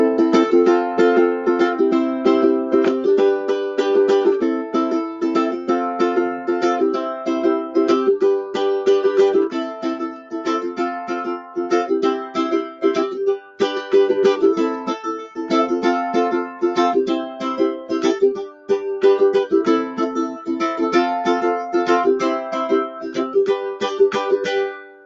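Steady ukulele strumming of a chord progression with the occasional up strum skipped, a continuous even rhythm, close and loud, with no talking.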